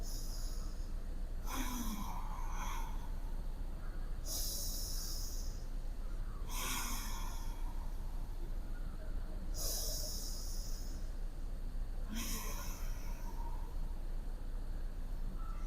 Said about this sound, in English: So I'll do 3 UJJAYI breaths.